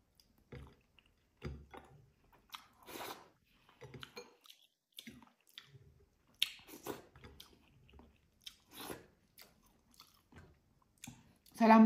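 Someone eating sour milkfish soup with kamias and spinach, with close wet chewing, sips and mouth sounds that come and go in short bursts between pauses.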